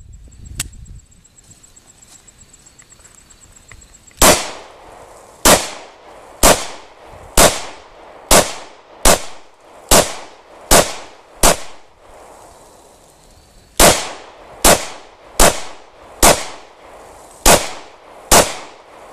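Glock 22 pistol firing Winchester White Box ammunition at a shooting range, a steady series of loud, sharp gunshots spaced about a second apart, with a brief break midway.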